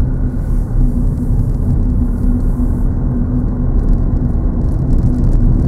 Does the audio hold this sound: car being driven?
yes